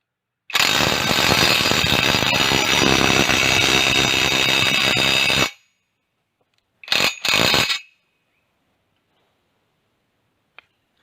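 An Ozito PXC 18V brushless impact wrench hammers at wheel nuts in one loud, continuous buzzing burst of about five seconds, then two short bursts after a pause, all close up.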